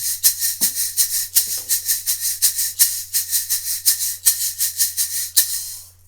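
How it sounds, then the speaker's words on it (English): A ganza, the Brazilian metal shaker, rattles in a steady rhythmic pulse of bright, hissy shakes, close and moderately loud, with no voices over it. "they call this instrument the ganza."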